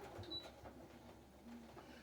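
A quiet sewing machine stitches quickly around the edge of fabric for journal signature inserts, giving a soft, steady mechanical hum at low volume with no voices.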